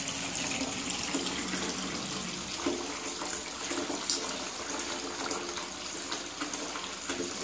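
Bathwater pours steadily from a tap into a tub with a Lush Ladybird bath bomb fizzing, a constant broadband rush of water and bubbling close by, with no talking.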